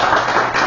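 Audience at a Rotary club candidate forum claps for the candidates, a short, loud burst of dense applause filling the room.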